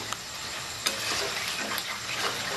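Pieces of taro root frying in oil for a crispy Bengali-style arbi fry, a close, constant crackling sizzle with a few sharp ticks from stirring, no voices.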